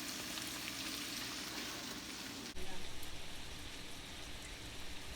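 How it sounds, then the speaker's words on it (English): Celery and onion hiss in a hot pan as a steady, rain-like sizzle that swells sharply partway through, with faint voices underneath. "We are now putting in the celery and the onion."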